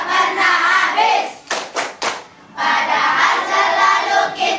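A classroom of children performs a rhythmic clapping chant about the water cycle, a few sharp group claps in a pattern between bursts of voices chanting together, close and lively.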